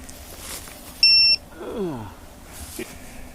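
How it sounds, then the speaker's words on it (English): A ViFly Finder drone locator buzzer gives one loud, shrill electronic beep lasting about a third of a second, outdoors in light wind. "that's our testing of the ViFly buzzer"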